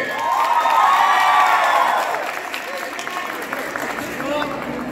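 A crowd at a college week award ceremony applauds and cheers loudly, with whoops rising at first and then settling into steadier clapping under a voice on the sound system.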